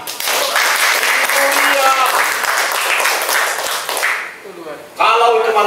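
Seminar audience clapping loudly in a hall for several seconds, the dense applause briefly dropping before a voice speaks over it and the clapping resumes.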